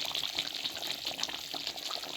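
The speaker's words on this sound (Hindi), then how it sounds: "मैंने इसमें दही डाल दिया।" Yogurt is poured into a pot of Sobat (Painda) stew, a soft continuous wet, liquid pouring and sloshing sound, fairly quiet and close, with no talking.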